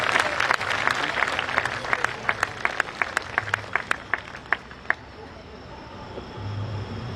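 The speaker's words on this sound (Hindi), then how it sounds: "उसे जन्मदिन की बधाई भी दीजिए और स्वागत भी दीजिए बहुत जोरदार तालियों के साथ" An audience at a poetry gathering claps loudly to welcome a young poet, the applause thinning into a few scattered, distinct claps that fade out within several seconds.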